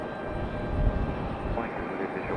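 Aeromexico airliner arriving from Mexico City and touching down in gusty wind, a loud, continuous broadband engine and air roar close by with no break.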